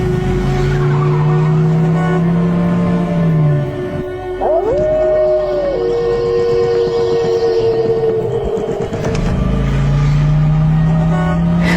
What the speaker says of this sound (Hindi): सुमित गाड़ी ऑन करके वहां से निकल जाता है।